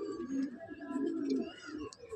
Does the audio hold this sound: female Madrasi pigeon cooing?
yes